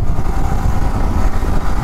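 Motorcycle engine, a Yamaha R15, during a car versus bike street race, a loud close rumbling engine drone with a fluttering low pulse and no speech.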